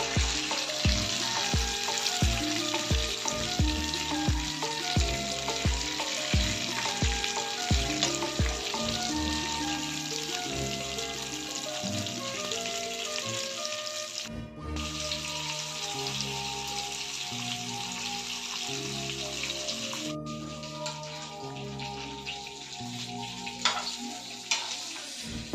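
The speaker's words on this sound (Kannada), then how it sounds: "ಅಂಜಲ್ ಫ್ರೈ ಹೋಟೆಲ್ದ ಸ್ಟೈಲ್ದ ಫುಡ್" Anjal fish frying hotel style on a tawa, a continuous loud crackling sizzle of oil that carries on throughout with rhythmic scraping, and no voices.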